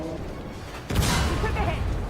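A tank cannon fires or takes a hit in the armored combat game Armored Warfare, a sudden heavy boom that gives way to a sustained loud rumble of battle, all over steady background noise.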